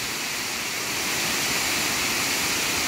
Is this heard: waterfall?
yes